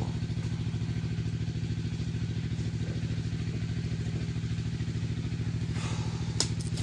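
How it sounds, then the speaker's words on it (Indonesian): A brick press machine beside a palm oil plantation runs loudly and continuously with a rapid, regular mechanical thumping and clatter, steady throughout, with a brief sharp knock near the end. "Itu adalah suara mesin pres bata yang ada di samping kebun kita saat ini sedang beroperasi"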